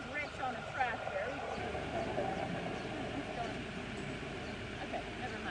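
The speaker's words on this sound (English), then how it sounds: "Here comes Rich on a tractor." A tractor engine rumbles faintly on a farm animal sanctuary, a low steady chugging that stays in the background beneath people talking nearby.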